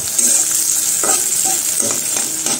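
Frying in a pan before garlic goes in, a loud, steady hiss of hot oil punctuated by several brisk stirring scrapes, close up with no voices.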